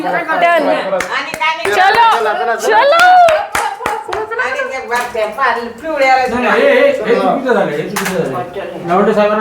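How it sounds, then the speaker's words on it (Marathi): A group claps hands at a paralysis rehabilitation session, with sharp scattered claps in bursts mixed with loud talking voices throughout. "टाळी द्या टाळी द्या टाळी द्या"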